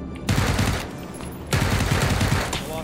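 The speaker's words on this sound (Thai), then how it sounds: "ยิงขู่ให้ความยาวเลย" Sustained automatic suppressive fire in PUBG during a squad tournament, two long loud rapid bursts close by, separated by a brief lull.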